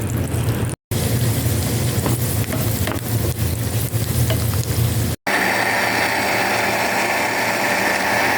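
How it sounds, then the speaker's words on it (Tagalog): Beans and nuts roast in a pan while being stirred, giving a loud, close, continuous sizzle with scraping and rattling texture that runs through two short cuts in the recording. No one speaks. "Magsasangag na po tayo ng ating beans, nuts."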